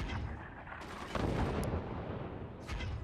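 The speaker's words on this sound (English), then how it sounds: "They have a lot of machine guns, though, now." Rapid, dense gunfire from many machine guns in the video game Forts, a continuous loud crackling barrage with heavier booming bursts mixed in and no voices.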